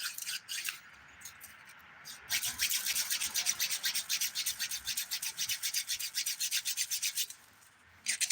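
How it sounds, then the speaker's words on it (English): Fingernails are filed with a 100 grit nail file in rapid, even back-and-forth strokes, close and fairly quiet. A short burst comes first, then a longer rhythmic run of rasping strokes. "I do not want to file the surface of these nails with a 100 grit"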